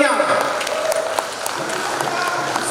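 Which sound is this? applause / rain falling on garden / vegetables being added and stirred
applause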